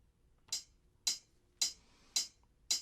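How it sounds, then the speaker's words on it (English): A metronome ticking a steady beat, five sharp, evenly spaced clicks about half a second apart, clear against a quiet background. "I could use a metronome like I have here, and I can keep a beat with a metronome."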